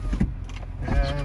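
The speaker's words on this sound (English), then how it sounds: "I'll go ahead and put the windows up." Power windows on a 2008 Corvette convertible, 3LT with a 6-speed, whir upward in a short, close motor hum inside the car, with a few faint knocks around it.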